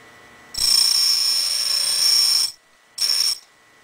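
A drill bit's secondary facet is ground on a shop-built four-facet drill sharpener, giving a bright, steady whine for about two seconds, then a second, shorter burst of grinding after a short pause.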